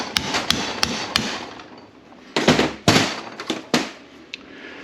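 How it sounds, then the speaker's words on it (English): Metal hammer strikes drive out a flange seal on a VW 02S six-speed transmission in a workshop, a series of sharp, close, ringing blows in irregular bursts with short pauses between. "now you have to kind of hammer to form the hell out of the seal"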